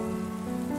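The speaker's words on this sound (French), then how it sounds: "Et la pluie tombe à l'extérieur" Rain falls steadily outside as a continuous, even wash of drops on surfaces, with a low sustained hum beneath and no talk.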